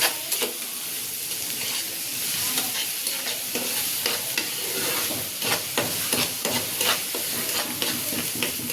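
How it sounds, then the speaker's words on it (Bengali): Chilies frying and being stirred in a pan with onion and garlic for taro-leaf curry, a steady close sizzle with repeated sharp scraping strokes of the spatula throughout. "ভালো করে মরিচে এটা ভাজা ভাজা করবো"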